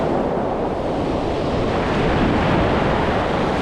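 Surf breaks on a beach in rough, windy sea conditions, a loud continuous roar of waves mixed with wind buffeting the microphone, no talking.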